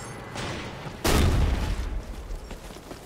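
A frag grenade goes off in the tactical shooter Ghost Recon Future Soldier: a single sharp, heavy boom about one second in, with a short rumbling decay that fades under faint background game noise.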